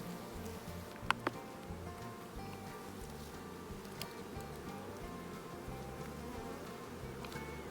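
Honey bees swarm and buzz around an opened beehive during an inspection, a dense, steady droning hum close by with occasional sharper passes of individual bees.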